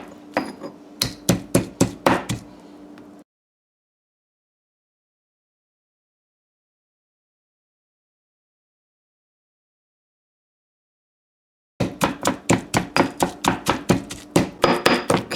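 Garlic and pepper being pounded in a mortar, sharp rhythmic thuds in quick bursts of about a dozen strikes, close and clear, with a long silent gap between two pounding sessions.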